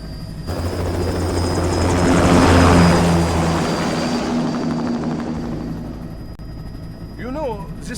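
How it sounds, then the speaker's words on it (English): An aircraft taking off in the video game Metal Gear Rising, a loud rotor-like engine roar that swells to a peak then holds steady, with a brief voice near the end. "Commencing takeoff in semi-auto mode."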